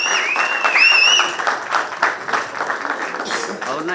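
An audience at a Kannada film teaser launch applauds to welcome the music director, with dense, loud clapping throughout and a few whistles rising over it.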